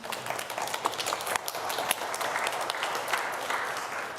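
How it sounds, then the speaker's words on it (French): Church congregation applauds during a Sunday homily, a steady field of scattered clapping lasting several seconds with no voices over it. "Applaudissez-le."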